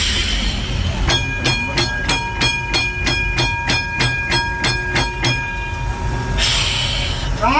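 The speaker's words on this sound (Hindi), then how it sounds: "वो गाड़ी चलेगी तब ट्राम चलेगी।" A tram train on India's only such line gives a rapid run of evenly spaced metallic clicks and rings over a steady rumble, ending in a hissing burst.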